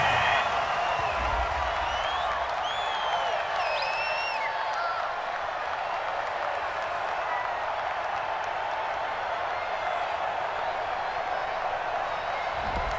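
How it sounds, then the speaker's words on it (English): The home crowd in Madden NFL 20 cheers a pass interference penalty call, a sustained, dense roar of stadium noise with scattered whistles and shouts running evenly throughout. "This home crowd, they're happy with that call."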